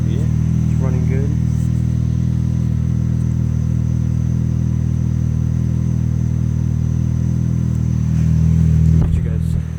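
Chevy Sonic 1.8 liter four-cylinder engine idling after a cold start, a steady low exhaust drone held evenly close to the microphone, with a brief voice at the start and a clatter near the end.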